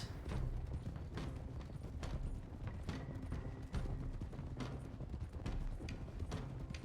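Horse hooves clip-clopping in the video game Red Dead Redemption 2, a steady rhythmic series of hard hoofbeats at a walking pace, close and continuous, with no talking.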